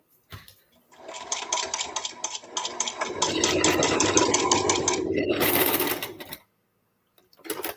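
A sewing machine stitches elastic onto a fabric hair scrunchie in close, loud, rapid mechanical bursts that rise into a steady whirring run, then stop abruptly into silence.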